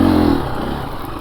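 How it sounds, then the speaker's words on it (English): KTM 350 EXC-F dirt bike pulling up a hill on the throttle, its engine loud and close at first, then easing to a steadier, slightly softer drone with some clatter. "I even had enough to get on and off the throttle coming up that hill."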